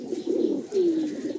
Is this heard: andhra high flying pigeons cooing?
yes